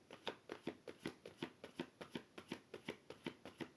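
Tarot cards being cut and shuffled, a faint, quick, evenly spaced run of soft riffling flicks close by, no talking.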